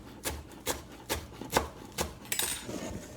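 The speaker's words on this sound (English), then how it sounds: "We're going to clump this up into a big ball and give it a coarse chop." A knife coarsely chops a bunched-up ball of tender cilantro for a Mexican cabbage salad, giving about seven distinct, evenly spaced thunks on a cutting board, close and fairly soft, with no talking.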